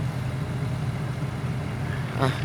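A Komatsu PC130 excavator engine runs steadily just after being started, a low continuous idle rumble throughout with faint background noise and a brief higher sound near the end.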